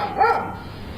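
A neighbor's dog lets out a short bark or yip close by, a single brief burst standing alone with no talk over it.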